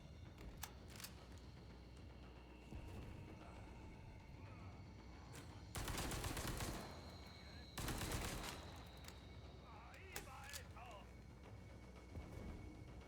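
Gunfire from a powerful weapon in the Resident Evil 4 Remake video game, heard as a few bursts of loud blasts among quieter in-game ambience.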